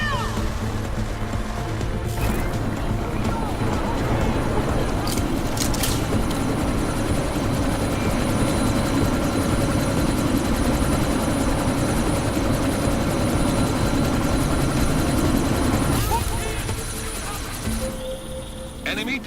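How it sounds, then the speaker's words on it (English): A helicopter taking off in the video game Deus Ex: Mankind Divided, its loud rotor chop and engine roar steady throughout, then fading near the end, with some voice-like sound mixed in. "That chopper's about to take off!"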